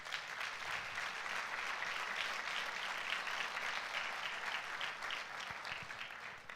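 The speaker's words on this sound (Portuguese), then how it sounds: "Você pode dar um aplauso a Jesus por isso?" A church congregation applauds during a service, a steady wash of many hands clapping that fills the whole stretch at moderate, fairly distant loudness with no voice over it.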